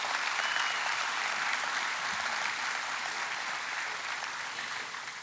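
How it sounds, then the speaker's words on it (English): Audience applause at the grand opening ceremony of the USF Porter Family Indoor Performance Facility, a steady, dense round of clapping from a large crowd that holds loud and even throughout. "Give yourself a round of applause."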